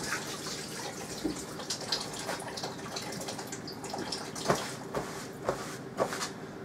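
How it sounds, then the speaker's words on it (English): Tap water runs steadily in a kitchen while hands are rinsed during sandwich making, with a continuous wash of flow and a few sharper splashes or clunks toward the end. "Running water."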